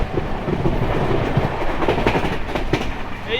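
The Akal Takht Express at 130 km/h, a loud dense roar from inside the carriage with rapid clickety-clack of wheels over rail joints throughout.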